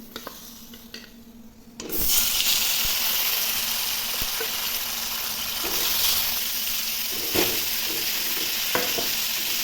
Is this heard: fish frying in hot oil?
yes